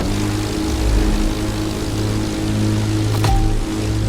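A propeller stunt plane in The Crew Motorfest video game taking off, a loud continuous engine drone with a throbbing low hum, steady and close throughout.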